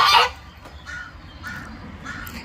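A pet goose gives a loud, close honk at the start, then several fainter honking calls at a steady pace over quiet background noise, with no one talking.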